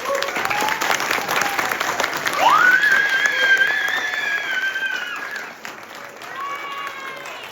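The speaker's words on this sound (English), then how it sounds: "So let's give them a round of applause." An audience applauds after an evening stage performance of Little Women, with a continuous roar of clapping, a long shrill whistle rising partway through, and scattered cheers that fade slightly toward the end.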